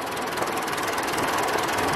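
A 265 tractor engine runs steadily with a loud, continuous mechanical rumble and clatter for the whole two seconds. There is no talk.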